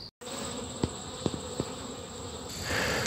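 Honey bees swarm around an opened beehive during honey harvesting, a dense, steady buzzing close by with a few soft knocks, swelling slightly louder near the end.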